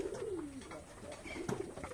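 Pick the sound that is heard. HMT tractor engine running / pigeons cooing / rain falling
pigeons cooing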